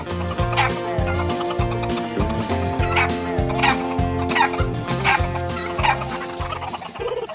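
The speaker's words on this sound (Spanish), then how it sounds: "Después de ver los gallos de corral" Farmyard roosters crow and cluck loudly and close by, in bursts over a dense, continuous musical background.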